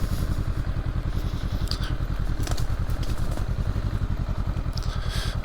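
A 2023 Honda SCL500 Scrambler motorcycle rides slowly through muddy woods while making a U-turn, its engine giving a steady, close throttling pulse with some crackle and clatter from the terrain underneath.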